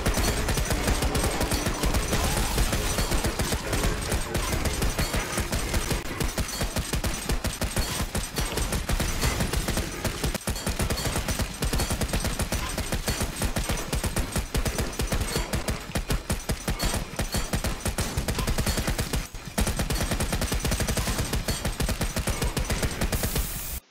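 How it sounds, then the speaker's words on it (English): Sustained Gatling gun fire in the survival game Volcanoids, a dense, continuous rapid-fire roar that runs nearly unbroken for the whole stretch, loud and close, with only a brief dip near the end. "I'm gonna need to Gatling on this, because what else are you gonna use?"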